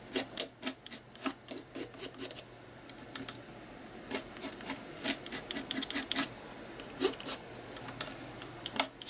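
Short scraping strokes of a small palette knife dragging paint across a mixed-media art surface, a quiet series of rasping swipes in irregular bursts, close and alone.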